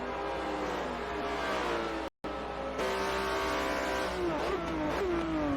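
A race car downshifts through a pair of turns at the Ring during a WEC race, its engine note rising and dropping with each gear change as it roars close and loud before pulling back toward the straight.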